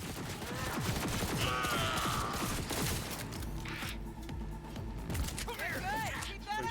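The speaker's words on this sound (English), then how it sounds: "Fucker's shooting at me with my own gun." Gunfire in Cyberpunk mixes with game effects and a dense combat soundscape, sharp bursts scattered through the clip at close range while a voice talks over parts of it.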